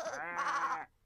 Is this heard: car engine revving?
no